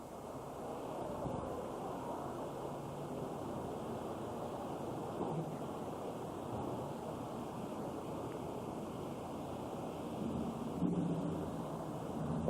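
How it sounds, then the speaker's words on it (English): Heavy rain from the outer bands of Hurricane Luis in 1995 pours in a dense, even roar with gusting wind over the microphone, steady and unbroken throughout. "These are just some of the outer rain bands coming through."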